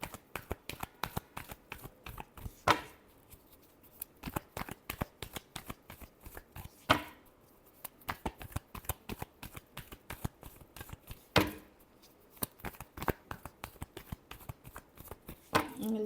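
Tarot cards are riffled and shuffled by hand in quick, crisp flurries of papery snaps, with a few louder slaps at intervals, close and fairly quiet with no talk over it.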